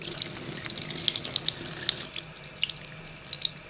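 Dirty brown water gushes out of a hole in a steady, close rush, with sharp drips and splashes scattered through it and no talking.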